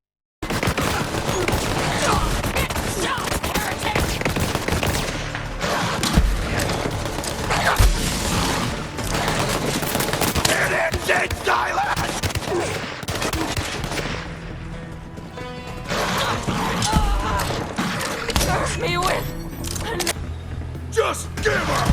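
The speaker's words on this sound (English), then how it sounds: "I found this really cool shotgun which like absolutely blows enemies away" Heavy, rapid gunfire from a shotgun in the video game Borderlands 3 blasts almost continuously with dense, overlapping shots and booms. Game sounds and voices stay loud throughout.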